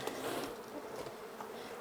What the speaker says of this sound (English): Always something for these darn bees.